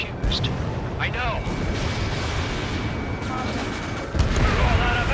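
Enemy gunfire in the aerial combat game Ace Combat 7: a dense, continuous barrage of rumbling shots and blasts, loud and steady throughout, with radio-style voices talking over the din.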